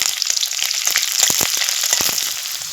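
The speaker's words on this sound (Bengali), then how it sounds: "কালো জিরে দিয়ে দেবো পেঁয়াজ কুচি কালো জিরেটা একটু লাল করে ভেজে নেবো" Chopped onion and black cumin seeds frying in hot oil, a close, loud continuous sizzle with sharp crackling pops and spatters scattered throughout.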